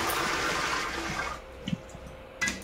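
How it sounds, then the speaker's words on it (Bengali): Water pours and sloshes over rice being rinsed in a home kitchen, a close rushing wash that fades after about a second and a half into quieter splashes and knocks. "কমপ্লিট করে এবার চালটা ধুয়ে দিয়ে দেব। দেখো ধুয়ে দিয়ে দিলাম।"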